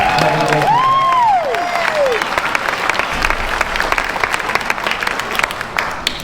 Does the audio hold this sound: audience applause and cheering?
yes